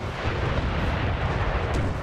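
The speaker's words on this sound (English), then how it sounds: "Well, they're called rockets, but I see them as fireworks." In the Napoleon Total War game, rockets fire and explode in a dense, continuous roar of bursts and rumbling blasts. The sound is loud and steady, with no talk over it.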